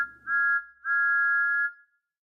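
Steam engine whistle in a Thomas the Tank Engine story, two clear high piping blasts, a short one and then a longer sustained one, loud and close with nothing else underneath.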